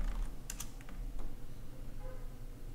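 A short run of keyboard typing for a search in Telegram, a few crisp close key taps over a steady low background hum.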